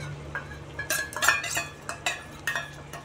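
Sour yogurt being added to a pan of spiced pointed gourd (potol) curry, with close, light clinks and scraping of a utensil against the pan over a steady low hum, irregular and moderately loud.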